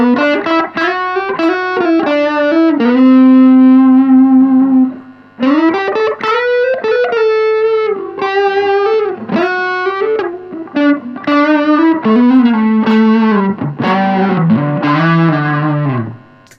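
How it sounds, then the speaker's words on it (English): Electric guitar played through the Zen Garden amp model on a Hotone Ampero Mini multi-effects unit, a distorted tone with chorus-like shimmer, sustained chords and melodic lines played continuously with one brief pause near the middle. "So on the Hotone, it's called the Zen Garden."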